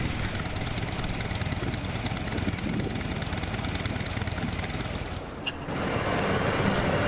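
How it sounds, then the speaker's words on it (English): A stock-exhaust 2017 Harley-Davidson Fat Bob idles close by in a steady, rich, uninterrupted rumble. The sound dips briefly about five seconds in, then resumes. "Even at idle, the 2017 has an articulate and rich note to it."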